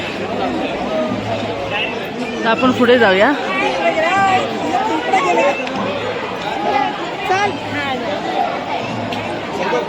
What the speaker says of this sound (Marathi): हे बघा हे मंदिर आहे खूप प्रमाणात गर्दी आहे भरपूर प्रमाणात गर्दी आहे इथे